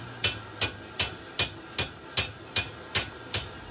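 A blacksmith strikes hot metal for a door knocker with a hammer, ten or so evenly spaced ringing blows about every third of a second, close and crisp.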